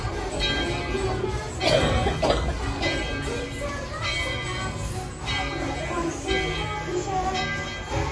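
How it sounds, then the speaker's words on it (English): Heritage railroad cars roll slowly along the track at the Tweetsie Railroad, a low continuous rumble with creaks and metallic clanks, while people chatter and children's voices sound around them. "And the train cars have finished rolling backwards."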